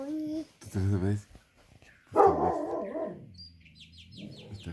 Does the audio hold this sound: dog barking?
yes